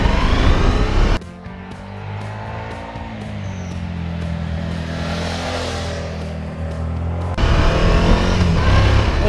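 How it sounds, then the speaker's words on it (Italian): A 2017 Suzuki V-Strom 1000XT motorcycle on Bridgestone Battlewing tyres is ridden, its steady low engine drone mixed with rushing wind, with louder, harsher wind and road noise at the start and end. "Ed eccoci in sella alla Suzuki V-Strom 1000 in versione XT gommata Bridgestone Battlewing"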